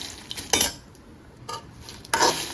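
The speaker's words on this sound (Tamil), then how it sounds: "அந்த கொட்டையெல்லாம் நல்லா ஃப்ரை பண்ணலாம்." Jackfruit seeds being fried and stirred in a pan over medium flame, three distinct scraping clinks of a metal spoon against the pan with a faint sizzle between them.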